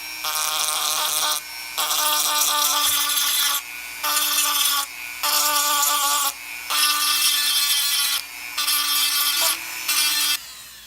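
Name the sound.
Dremel with cone-shaped sanding bit sanding a model part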